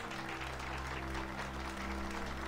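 Crowd applause in the video game Mass Effect 2, a dense, steady wash of many hands clapping at moderate volume, continuous and even over a low in-game ambient hum, with no talking.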